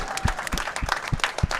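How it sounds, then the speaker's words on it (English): Applause for bowlers at a bowling event, light scattered clapping from a small group with irregular individual claps standing out, fairly quiet. "So a round of applause for our 4 Mount Rushmore bowlers of class."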